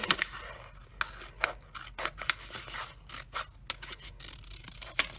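Scissors snip through a thin, papery liner material cut to sit in the bottom of a plant pot, giving a series of crisp, close scraping snips at an irregular rhythm.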